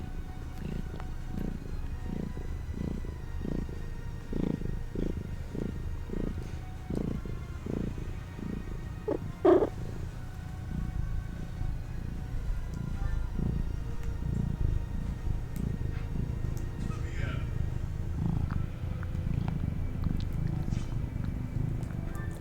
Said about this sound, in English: You gonna keep purring straight into the microphone?